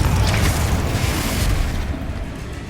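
A Confringo fire spell explodes in Hogwarts Legacy with a loud, deep boom that hits at once and then rumbles on for a couple of seconds before slowly thinning out, with no voices.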